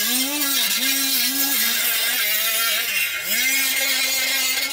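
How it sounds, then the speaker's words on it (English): A power tool grinds surface rust off the metal body of an LS-swapped Mercedes turbo diesel, a loud steady whine that holds pitch, dips briefly under load twice, then recovers, running continuously and close throughout. "I'm gonna clean up some of this surface rust."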